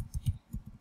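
A computer keyboard is tapped in a few quick, soft, close key clicks.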